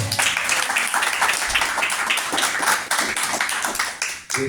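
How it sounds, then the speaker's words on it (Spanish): An audience at a Bhakti Yoga talk gives a strong round of applause, loud and continuous clapping that fills the whole stretch without pause. "un fuerte aplauso para Krishna Dauria"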